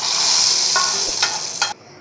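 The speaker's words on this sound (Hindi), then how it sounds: "तो अब हम लगाएंगे तड़का।" Hot oil sizzles loudly as a tadka tempering is poured into lauki raita, a bright continuous hiss with a few crackles that stops abruptly near the end.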